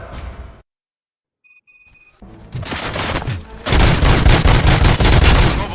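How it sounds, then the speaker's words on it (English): In the video game RoboCop: Rogue City, a brief pause with electronic beeps gives way to sustained rapid gunfire and explosive blasts, growing louder and denser toward the end. "Gunshots? What's going on?"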